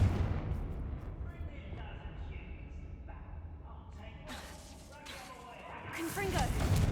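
A Confringo fire spell blasts in Hogwarts Legacy, a video game, with a run of loud booming, gunfire-like bursts that swell again near the end over constant game background noise.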